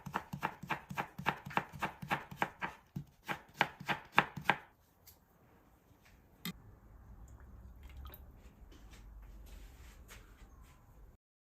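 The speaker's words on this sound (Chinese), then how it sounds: "把生姜切成片，再准备一点姜丝。" Fresh ginger cut into slices and then shreds with a kitchen knife, giving a rapid, even run of crisp thuds on a cutting board, followed by quieter scattered taps and faint shuffling.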